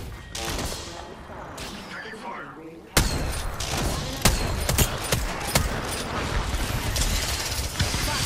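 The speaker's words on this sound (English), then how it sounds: "Getting shot at." Gunfire aimed at the player in a multiplayer shooter video game match on the Meltdown mode: rapid bursts and sharp cracks pile up over a busy, noisy battlefield, growing denser and louder partway through, with a voice speaking over the action.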